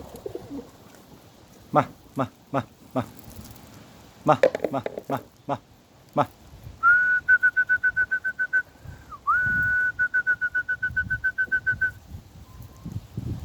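Pigeons kept by a pigeon fancier are heard with a few sharp flaps or claps, followed by long, rapid, high trilling whistle-like calls repeated in two bursts, while someone talks nearby.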